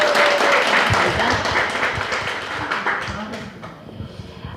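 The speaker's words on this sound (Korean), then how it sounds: "큰 박수 부탁드리겠습니다." An audience at a consumer gathering applauds to welcome a presenter, with loud, dense clapping at the start that gradually thins and fades while a voice comes in near the end.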